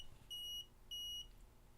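Two short, clean electronic beeps from an Arduino-driven DS3231 RTC module alarm sound close and clear over faint background hiss.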